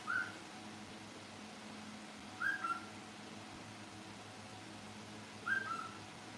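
A person whistles the same short rising two-note call three times, spaced a few seconds apart, each one brief and soft above a low steady background, with no talk.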